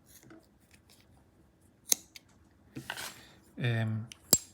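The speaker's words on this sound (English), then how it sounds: "So this has kind of larger scissors, which may or may not be great, but here I cut some." Larger removable scissors from a tiny multi-tool snip through material in a few quick, close, crisp cuts separated by quiet gaps, with faint handling noise.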